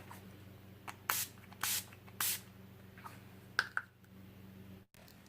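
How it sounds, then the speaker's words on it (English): Short bursts of Urban Decay De-Slick setting spray misted onto a made-up face, three quick hisses a half-second apart with a softer fourth, close and fairly quiet over a faint background hum. "I'm going to set it using the Urban Decay De-Slick setting spray"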